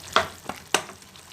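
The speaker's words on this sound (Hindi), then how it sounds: "2 से 3 मिनट तक आलूओं की भुनाई करेंगे" Potatoes sizzle and fry in a pan for a Punjabi dhaba-style black chana curry, with three sharp scraping stirs of a spoon over a steady crackle, close and fairly quiet.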